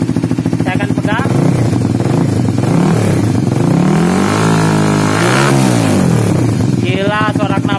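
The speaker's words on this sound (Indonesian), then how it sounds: "Gila suara knalpot ini kayak macan," A motorcycle fitted with a perforated carbon exhaust revs hard and loud, its engine note climbing and falling in repeated sweeping bursts, with a harsh, rasping roar right up close throughout.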